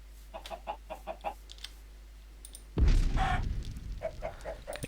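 A game chicken clucks in short repeated bursts, joined midway by a sudden loud whooshing crash before more clucks return.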